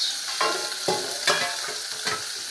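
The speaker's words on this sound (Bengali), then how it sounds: "খয়রা মাছ ভাজা হচ্ছে" Khoira fish frying in a pan, a continuous close sizzle broken by a few sharp spatters and stirring scrapes.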